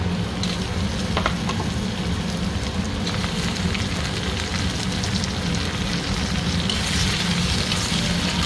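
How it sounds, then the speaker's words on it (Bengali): Tomatoes fry in hot ginger garlic paste in a home kitchen pan, a continuous crackling sizzle with scattered pops and occasional stirring scrapes, close and steady with no talking. "একটু দিয়ে দেবো এখন টমেটো,"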